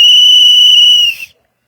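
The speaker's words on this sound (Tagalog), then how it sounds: "May Ma'am Abby, gitagaan mi niya og pito to signal" A whistle blown as a signal during a tense gathering of people outside a house: a single loud, sustained shrill blast lasting just over a second before cutting off.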